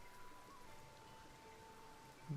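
Rain in the video game Zelda: Tears of the Kingdom, a faint, steady patter of falling drops over a soft hum, with a low tone at the very end.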